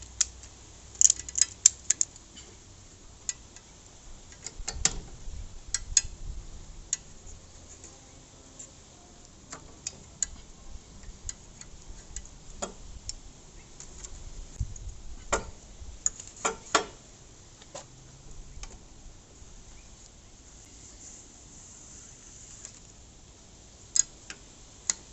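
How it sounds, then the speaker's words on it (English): A ratchet strap is cranked tight while a centre stand is fitted to a CFMOTO 450MT motorcycle. Sharp, sparse clicks come in small irregular clusters over a quiet background, fairly close but soft. "all I've got to do is ratchet it up and put that over"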